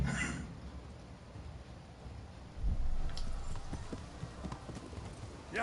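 Horse hooves clip-clop in Kingdom Come Deliverance, a steady trotting rhythm of soft thuds on dirt over low ambient game noise, with a louder burst of movement midway and no talk.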